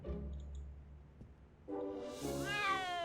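Ms. Pretty Whiskers, a cat in a Back to the Future video game, gives a couple of soft meows, then a louder, drawn-out meow with rising and falling pitch near the end, heard alone.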